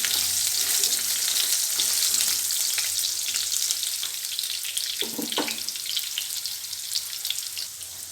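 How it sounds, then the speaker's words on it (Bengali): Potatoes sizzle steadily in a hot pan while a utensil stirs them, with a brief louder clatter midway through the continuous frying. "আগে আলুটা দিলাম, আলুটা দিয়ে একটু নাড়িয়ে নেব।"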